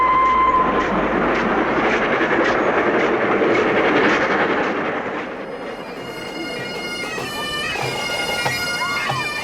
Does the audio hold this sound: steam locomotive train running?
yes